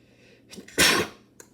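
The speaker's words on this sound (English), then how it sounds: "I had to sneeze a little." A single sharp sneeze bursts out close to the mic, preceded by a brief inhaling buildup and followed by quiet.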